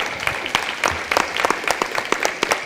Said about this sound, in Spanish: vamos a darle un aplauso a los hombres.